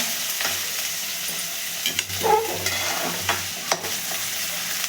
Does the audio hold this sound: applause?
no